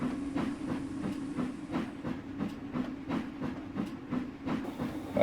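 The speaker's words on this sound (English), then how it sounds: "Here we have the SS International actually departing Troop Junction, heading for Nelson Landing." A steam train departs a station in the Trainz railroad simulator game, with a rhythmic chuffing beat over a steady low rumble, moderately loud and with no voices.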